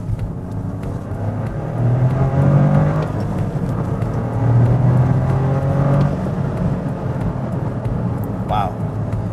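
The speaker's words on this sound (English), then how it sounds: "Got that turbo sounds going off." A 2024 Toyota GR Corolla's turbocharged engine pulls hard on a highway, its note rising through two surges under steady road and wind noise, heard from inside the cabin.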